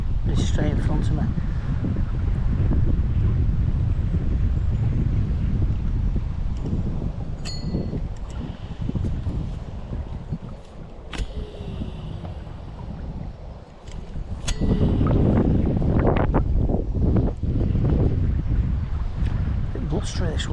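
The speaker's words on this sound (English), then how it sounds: "Bit blustery this wind now." Strong, gusty wind at a riverside fishing spot buffets the microphone with a loud, continuous low roar. The roar dips briefly midway, then surges back.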